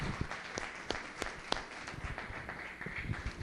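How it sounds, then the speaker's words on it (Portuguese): A church congregation claps in praise, a brisk wash of many hands with a few sharper individual claps standing out, fairly close and continuous. "Uma salva de palmas ao Senhor."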